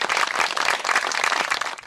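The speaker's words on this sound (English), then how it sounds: "he arrives to clapping and handshakes from parents of other players" Parents clapping at a youth game as a returning soldier walks in, a short burst of dense, fairly close applause from a small crowd.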